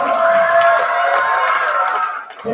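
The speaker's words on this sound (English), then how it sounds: "Let's give all of our Shamrocks a big round of applause." An audience in a school setting applauds the students, a steady crowd roar with some cheering that holds for a couple of seconds and then fades.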